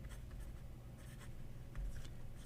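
A Kanwrite Desire fountain pen with a standard medium nib, filled with red ink, scratches softly across paper in short faint strokes, quiet and close with no talking.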